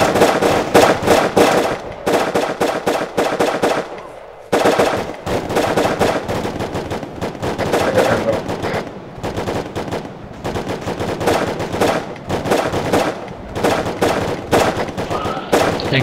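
Rapid bursts of automatic gunfire from the video game Arma 3 crackle loudly and almost nonstop, broken by a few brief pauses.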